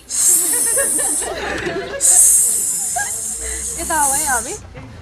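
Several people imitate a snake's hiss in a group wildlife conservation training, producing loud, sustained breathy hisses in two long bursts, mixed with chatter and laughter close by.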